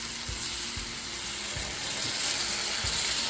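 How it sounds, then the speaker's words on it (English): Lamb chops sizzle steadily in a hot pan, a continuous crackling hiss with a few soft knocks underneath. "Ooh, you hear that sizzle?"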